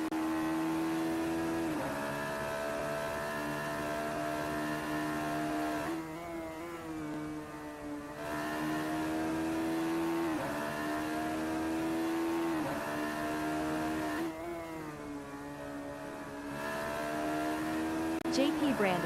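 A Radical race car in a racing sim video game drones through Old Hairpin, its engine note holding a steady pitch, then dipping and climbing again as it brakes and accelerates, fairly quiet and continuous throughout.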